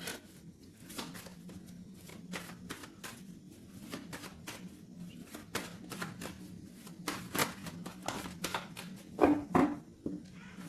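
A deck of tarot cards is cut and handled, giving a run of quick close riffling flicks and soft slaps over a quiet background, busiest toward the end, with no speech.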